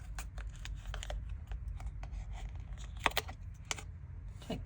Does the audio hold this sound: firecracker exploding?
no